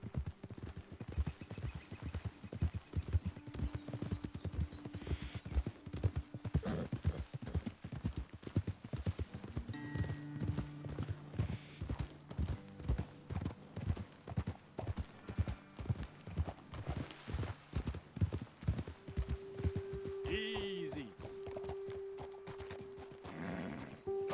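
Horse hooves clip-clop in a steady walking rhythm through Red Dead Redemption 2, close and continuous, with occasional whinnies and a voice speaking briefly over the riding.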